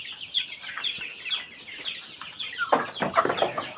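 Several chickens and young cockerels from a January hatch clucking and chattering steadily, a dense overlapping flock chorus close by with sharper calls rising toward the end, no talking.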